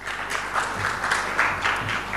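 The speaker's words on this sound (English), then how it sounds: "Once again, a round of applause for our eminent panelist." Audience at a panel discussion clapping for a panelist, a brief dense burst of applause from a crowd, steady and fairly close with no speech on top.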